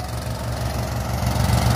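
Mahindra 265 DI tractor engine runs steadily at a low throbbing idle, loud and close, with a constant rumbling pulse.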